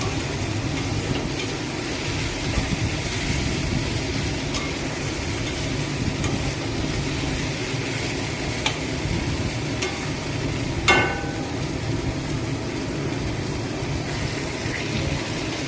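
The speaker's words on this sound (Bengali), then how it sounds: "দেখো, আমার চিংড়ি মাছের সাথে পেঁয়াজটা কত সুন্দর ভাজা ভাজা হয়ে গেছে।" Onions and prawns frying in a pan for a Bengali lau chingri dish, a steady close sizzle with occasional sharp clinks of a spatula against the pan, no talking.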